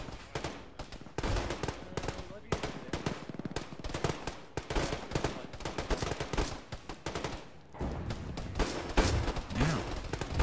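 Sustained machine-gun fusillade in an Arma battle, dense overlapping automatic bursts hammering nearly nonstop, loud and close with brief gaps between volleys.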